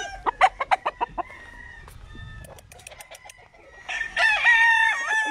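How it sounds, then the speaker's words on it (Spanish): An old wild-type rooster gives a series of sharp clucks, then a long loud crow near the end, close by and with no talk over it. "Tengo un gallo, un silvestre, ya viejito."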